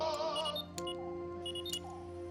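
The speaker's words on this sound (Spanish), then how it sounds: "el reloj de pulsera de Cliff también emite un pitido" A wristwatch emits a series of short, high electronic beeps in small clusters, close and clear over a faint steady hum.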